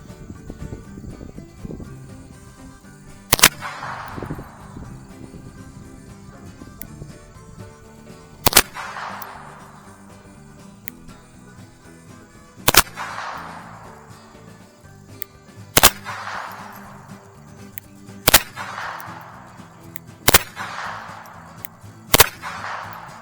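FN 502 pistol firing during an ammo test, a series of sharp, loud single shots spaced a few seconds apart outdoors, each followed by a brief fading ring, with a low background hum between them.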